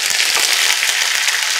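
Curry leaves and dried chillies hit hot oil with mustard seeds for a tempering, crackling and sizzling loudly and close, with quick popping bursts over a dense hiss.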